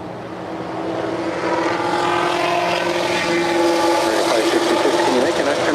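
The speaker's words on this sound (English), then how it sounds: "It's an A320 now crossing over 25 right." An Airbus A320 airliner crosses runway 25 right at LAX, a steady engine drone with a humming whine that swells slightly louder over several seconds, with voices in the background.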